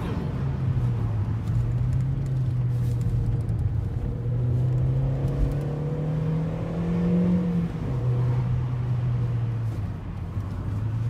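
A Volkswagen Polo 5 with a 1.4 85hp engine accelerates from inside the cabin, a loud sustained rumble whose pitch rises through the revs, drops at a gear change and climbs again.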